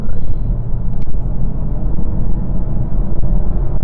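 A 2021 Chevrolet Camaro 1LT with a 2.0-litre engine pulls at full throttle, heard from inside the cabin as a loud, steady low engine drone and road rumble that continues throughout.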